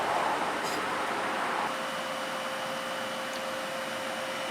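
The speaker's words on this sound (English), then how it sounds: "I'm gonna actually have to cut this little bit of thread off with a grinder" An angle grinder cuts the excess thread off a ball joint stud on a 1991 Toyota MR2 during ball joint and tie rod replacement, giving a steady, loud, broadband whine that holds throughout with a constant high tone and no talk.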